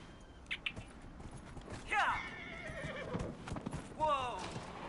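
A horse in the Dragon Age video game whinnies loudly twice amid steady clip-clop hoofbeats, with a voice briefly in the background.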